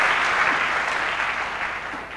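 A church congregation claps and cheers in a steady, dense burst of applause that fills the room, close and loud, with no speech over it.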